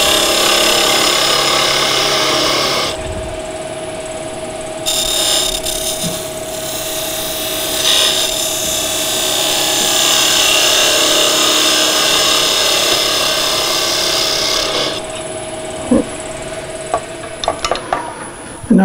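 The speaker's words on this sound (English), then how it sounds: "And again, I want to undercut that slightly." A wood lathe hums steadily while a turning tool undercuts a small wooden miniature birdhouse, giving a continuous whirring scrape that pauses briefly and ends with a few knocks.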